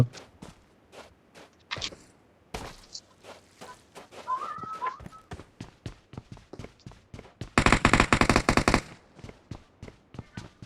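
Rapid gunfire in the PUBG Mobile battle on the desert map. Sharp, repeated shots crack out in uneven bursts, ending in a dense automatic volley near the end. Faint voices are heard between the shots.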